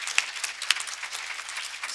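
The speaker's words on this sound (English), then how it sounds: "I think we should applaud her, absolutely." Soft applause from a conference audience at a session on sex and gender in STEM research and innovation policy: a faint, steady patter of clapping for under two seconds with a couple of sharper claps.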